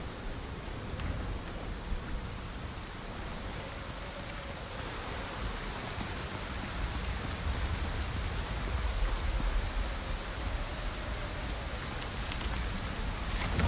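Steady acid rain pours down in the survival game Icarus, a dense, even hiss of falling drops that holds at a constant level throughout with no voices.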